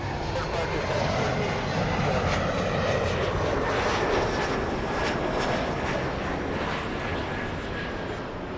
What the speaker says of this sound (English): Delta 465 to Honolulu, a 767-300.